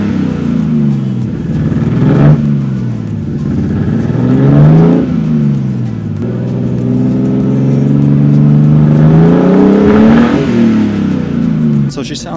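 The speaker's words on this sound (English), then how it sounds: "Once it gets closer to like 150, then we'll do some revs and we'll see how she sounds" An LS2 V8 in an off-road Nissan 240SX revs repeatedly, with several long rises and falls in engine pitch over a loud idle. The engine is close and strong throughout, and talk is faintly present.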